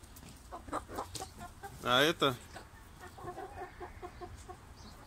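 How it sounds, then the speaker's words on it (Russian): Reddish hens cluck around a backyard flock, soft intermittent calls with one louder squawking burst in the middle, heard near with a person speaking briefly. "Курочки, видите, как выглядят?"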